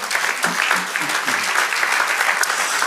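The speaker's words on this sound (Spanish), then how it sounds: "Denle un aplauso al Señor." A church congregation claps in sustained, lively applause, with a few voices rising briefly under the clapping.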